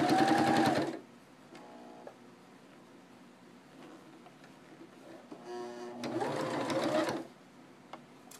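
Sewing machine zigzag stitching fabric for baby booties: two loud bursts of fast mechanical whirring and needle chatter, one at the start and one near the end, with quieter handling sounds in between.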